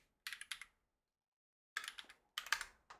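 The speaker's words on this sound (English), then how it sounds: "I'm going to type in Tarmac" Short bursts of typing on a computer keyboard, a quick cluster of clicks followed by a pause and then two more clusters of keystrokes, close and fairly quiet with no voices.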